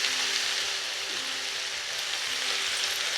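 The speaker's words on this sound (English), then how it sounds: "Raise the heat to high. Stir fry for a couple of minutes." Vegetables with grated ginger sizzle in a hot pan over high heat, a steady bright frying hiss with faint scraping of stirring, continuous and close, no talking.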